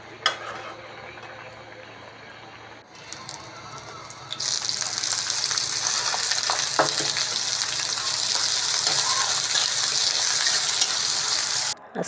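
Small icha prawns frying in a pan, a steady broadband sizzle that swells louder partway through and holds, with faint stirring and clatter underneath; no voices.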